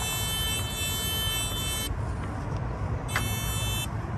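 Water level meter probe beeping as it touches water in a well, heard as two electronic tones, one long and one shorter, over steady outdoor background noise, with no talking.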